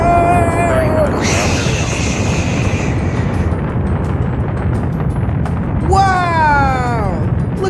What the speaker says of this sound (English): Look at the rocket ship go!